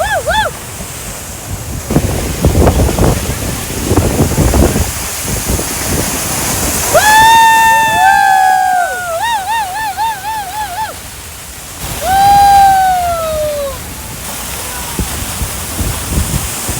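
The Hogenakkal Falls waterfall sends up a steady, broad rush of falling water throughout. Murmured voices rise over it early on, and a series of high whistling, warbling tones sweeps across the middle and again near the end.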